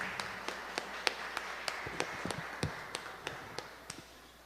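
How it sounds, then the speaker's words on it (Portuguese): Sparse, evenly spaced handclaps ring out one at a time in a church service as the worship group is welcomed, with a quiet room behind them. "Vamos receber o nosso grupo de louvor com a linda salva de palmas."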